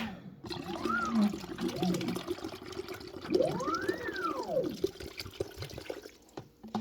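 A coffee filling machine dispenses liquid in a steady, close trickling pour, with a few short rising-and-falling whistling tones over the flow.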